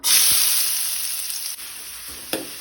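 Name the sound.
chopped onion frying in hot oil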